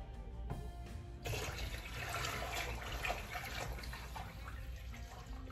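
Water runs steadily from a tap into a pot, a continuous rushing splash with a brief thud before the flow gets louder and fuller, holding at a moderate level throughout with no talking.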